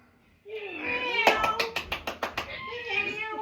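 A live audience imitates cats with a swell of overlapping meowing voices, punctuated midway by a run of sharp rhythmic claps, then more meows trailing off.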